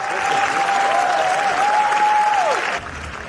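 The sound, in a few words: standing ovation applause at Cannes film screening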